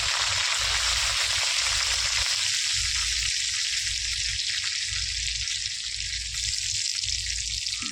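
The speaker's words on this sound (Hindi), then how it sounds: "तो तेल गरम हो चुका है, तो पहले लहसुन को डाल देती हूँ और लहसुन मेरा भून चुका है दोस्तों, तो ये मिर्ची को भी डाल देती हूँ।" Garlic and dried red chillies frying in hot oil in a village kitchen, a steady loud sizzle throughout with bright crackling spatter, no voices.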